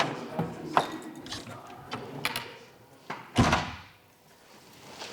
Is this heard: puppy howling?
no